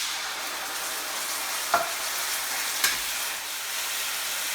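Steady loud sizzling of onions and garlic frying in a pan for homemade pizza sauce, with two brief clinks as diced tomatoes go in and are stirred.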